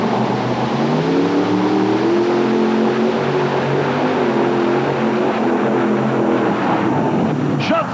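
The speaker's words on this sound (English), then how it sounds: "this is going to be loud as he kicks them Arius' engines into gear, all running in sync" Multiple Arius engines on a tractor-pulling vehicle at an NTPA pull in Canfield, Ohio, roar loudly in sync, a dense, steady engine drone filling the whole stretch with some rising and falling pitch.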